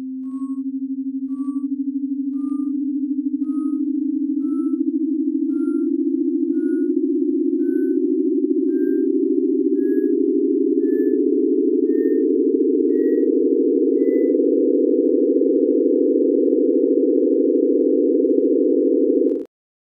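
A synthesized pure tone sonifying a pentadecagon drawn on 30 points, holding one steady low pitch that rises slowly for nearly twenty seconds, with soft evenly spaced clicks at each vertex, then cutting off abruptly.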